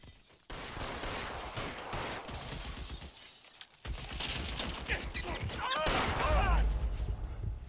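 Rapid gunfire and shattering glass in the video game LA Noire, a dense, loud burst of shots and breaking sounds that runs almost without a break.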